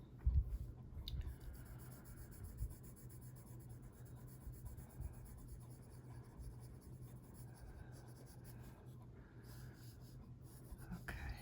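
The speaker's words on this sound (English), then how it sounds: "I'm going to use the white pencil to make her fingernails while I'm thinking of it." A white Prismacolor pencil rubs across paper in quiet, close, continuous scratchy strokes while fingernails are colored in.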